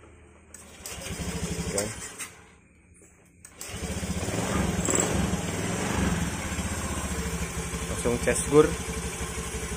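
A Honda Vario 110 scooter engine is cranked with its electric starter, catches and settles into a steady idle, after a short quiet pause; someone talks over the opening and the running engine.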